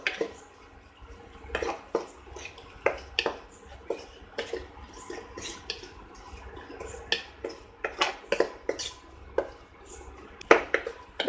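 Spoon stirring karamani sundal with jaggery and cardamom powder in a pan, irregular clinks and scrapes against the metal, close and moderately loud with short pauses between strokes.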